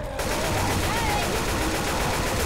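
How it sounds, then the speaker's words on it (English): Rapid automatic AK rifle fire from the video game Left 4 Dead 2, a loud continuous burst of closely spaced shots with game noise behind it. "AK, I'm taking the AK. AK is like the best weapon to fight tanks with."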